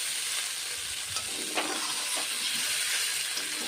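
Dried fish frying in oil in a pan gives a steady, close, bright sizzle and hiss throughout, with a few soft stirring scrapes and no voices.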